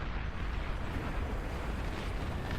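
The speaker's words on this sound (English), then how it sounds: "I heard a plasma cannon, long-range plasma cannon." A long-range plasma cannon fires in a video game, heard as an unbroken low rumbling roar with no clear separate shots. The sound is steady, distant and fairly quiet.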